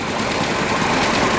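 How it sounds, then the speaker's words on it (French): Single-cylinder 600 cc engine of an 1897 Léon Bollé car, built under licence, running steadily with a continuous broadband chugging drone, fairly loud and close, no voices. "Un moteur monocylindre de 600 cm3."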